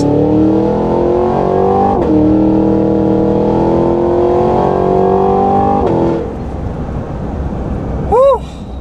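A 2023 Cadillac Escalade-V accelerates hard with a loud, roaring exhaust that climbs through the gears with brief dips at each shift, then fades into a quieter rumble as it slows.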